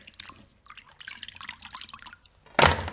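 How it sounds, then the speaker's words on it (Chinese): Pork ribs rinsed in a basin of clean water: soft sloshing, drips and small splashes stop and start for a few seconds, then one louder, fuller splash or pour near the end, close and with no talking. "然后加入清水将排骨多清洗几次"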